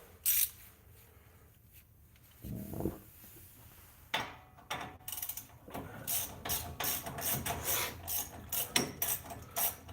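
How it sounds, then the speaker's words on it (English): A cheap Walmart ratchet cranked on a truck ball joint, sporadic clicks at first, then rapid repeated bursts of ratcheting and metallic rasping, close and fairly quiet. "I think I officially broke this Walmart ratchet. Just yanking on, what was it, the ball joint?"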